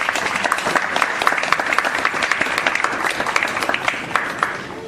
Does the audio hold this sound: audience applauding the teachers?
yes